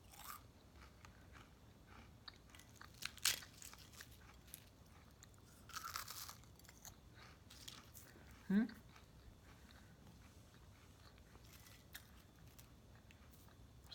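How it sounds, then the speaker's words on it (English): A person bites into crispy homemade bunuelos with a few faint crunches and chews quietly, spread over a quiet stretch with a low background hum. "I can't stop eating it because they're so good."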